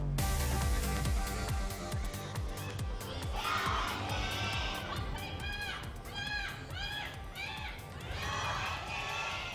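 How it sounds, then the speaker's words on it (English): A lively crowd at an Overwatch esports match cheers and shouts over dense music and chatter, loud and continuous throughout. "Big cheer coming out actually for the Kongdu fans there at the end"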